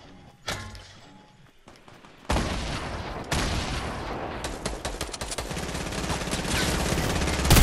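Gunfire in a shooter video game: loud, dense bursts of automatic fire that start sparse and build into near-continuous shooting toward the end.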